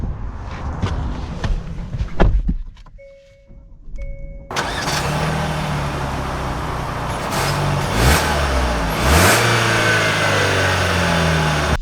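A 2024 Hyundai Santa Fe starts up after a few soft clunks and a brief electronic chime, then pulls away with a steady engine hum rising as it gathers speed, close and moderately loud.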